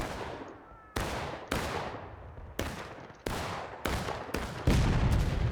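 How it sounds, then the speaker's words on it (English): Repeated artillery blasts from a Civil War battle video game, roughly seven sharp booming shots at irregular intervals, each with a long decaying tail, loud and alone. "Oh, good artillery shot."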